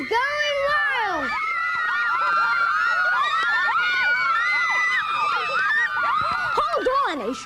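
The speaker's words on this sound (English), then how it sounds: "The crowd is going wild." Many children shout, scream and cheer at once around a ball game on a field, their high voices overlapping in a loud, continuous roar of excited yelling.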